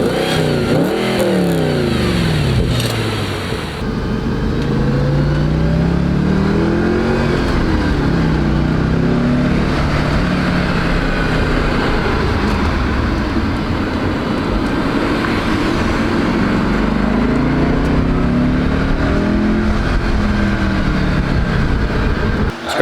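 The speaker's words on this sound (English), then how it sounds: "We're gonna start this car and see what it sounds like." An Audi fitted with an AWE Tuning track edition exhaust revs loudly and close by, its engine pitch climbing and falling in several sweeping pulls over a steady deep idle rumble.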